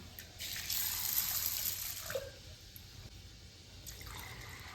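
Running water splashes and trickles steadily, as if from a tap into a bowl of chana dal and toor dal being washed, with faint clinks partway through; no talking.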